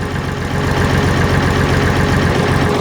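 The replacement engine of a Bizon 5056 combine harvester runs steadily, a loud, close, even diesel drone with a low pulsing throb and no voices.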